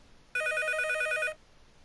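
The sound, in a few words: telephone ringing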